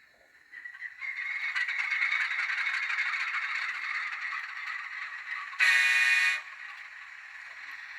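An N scale Atlas Dash 8 model locomotive in gold Amtrak livery runs on track with a thin, steady whirring buzz and a light rattle. A louder burst of hiss sounds briefly near the end, then the quieter running tone continues.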